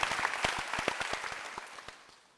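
Scattered clapping from a church congregation during a Sunday worship service, a few distinct claps ringing out close and sharp before thinning and fading away.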